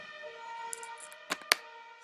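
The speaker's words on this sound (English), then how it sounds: "How annoying! An ambulance now." An ambulance siren wails steadily outside, a sustained, moderately faint tone heard through a room, broken by a couple of sharp nearby clicks.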